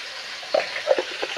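Chicken pieces sizzling in a hot frying pan with black pepper, a steady close hiss broken by a few sharp scrape and clatter bursts as they are flipped.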